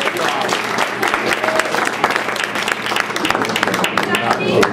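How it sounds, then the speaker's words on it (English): Audience applause at a nightlife comedy show, loud and dense clapping filling the whole stretch with a few voices and cheers mixed in. "Give a round of applause."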